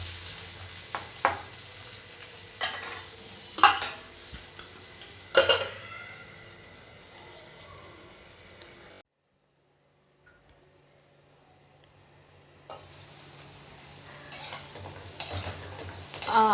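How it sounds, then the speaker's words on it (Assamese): Potatoes for a poppy-seed curry sizzle and fry in a pan, with a few sharp stirring scrapes early on, then a brief hush before the frying noise returns steadily. "আমাৰ আলুখিনি ফ্ৰাই হৈ গৈছে।"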